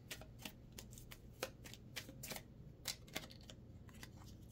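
Tarot cards being shuffled by hand, a quiet series of crisp riffling flutters and soft snaps in irregular bursts, close up against a faint background with no talking.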